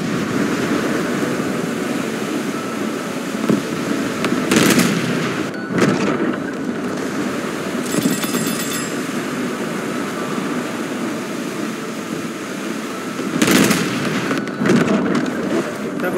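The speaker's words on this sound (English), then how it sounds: "Double torpedoes out." Torpedoes launching in the naval battles of War Thunder, heard as a few sharp bursts over a steady, loud roar of engine and sea noise, with faint background chatter.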